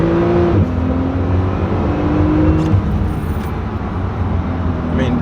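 A Porsche 991 Turbo S engine piped into the cabin through a sound speaker, a steady droning hum with a slight rise in pitch as it revs, continuous and moderately loud.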